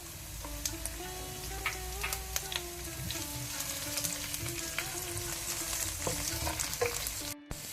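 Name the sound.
frying garlic and ginger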